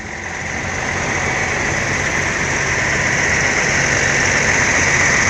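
A bus engine idles steadily and close by, a smooth continuous rumble that swells slightly at the start and then holds level.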